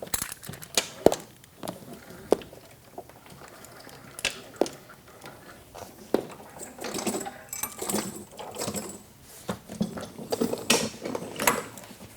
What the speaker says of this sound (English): we're going to take the ropes off and remove the carriage just to give us a little bit more room to work